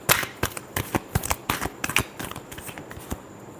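Tarot cards are shuffled by hand, a quick series of sharp riffling flicks and soft slaps in close, irregular bursts with no talk over them.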